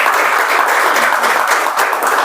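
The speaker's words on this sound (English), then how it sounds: "A big round of applause to Toastmaster Jayesh." An audience at a Toastmasters club meeting claps for a speaker in a dense, even burst of applause that carries loudly for a couple of seconds with no talk.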